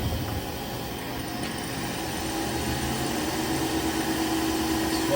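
A Haas SL-20T CNC turning center from 2004, its 8-inch chuck spinning at speed, gives a steady mechanical whir and hum that holds level and close for the whole stretch, with no talking.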